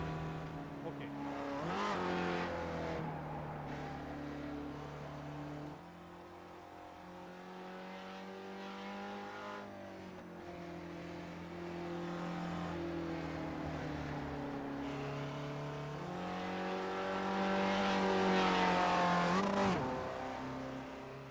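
A Mazda MX-5 race car in iRacing at Lime Rock Park runs at full throttle, its engine note climbing and falling through gear changes in a steady, continuous drone with no talk over it.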